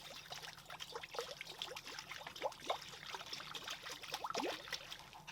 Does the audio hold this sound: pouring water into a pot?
yes